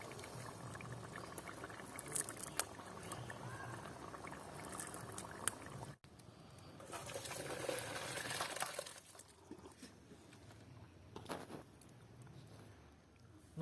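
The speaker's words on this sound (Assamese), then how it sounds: "একদম আধা ঘণ্টামান উতলাই ৰাখি দিম।" A pot of rohu fish curry simmering during village-style cooking, a faint, soft bubbling and gurgling that continues quietly and unevenly throughout.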